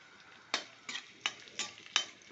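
Green chillies and curry leaves frying in hot oil for a restaurant-style Andhra chicken fry, heard as five regular bursts of stirring and sizzling against a low steady hiss, close and fairly quiet.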